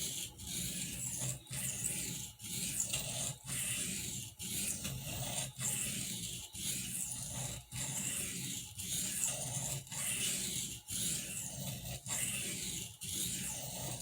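A Barlow pocketknife blade is worked with firm pressure across a fine India oil stone, giving steady rhythmic rasping strokes, each about a second long with brief pauses between, close and moderately quiet with no talking.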